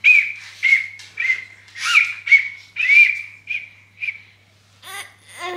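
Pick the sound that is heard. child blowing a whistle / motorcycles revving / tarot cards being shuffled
child blowing a whistle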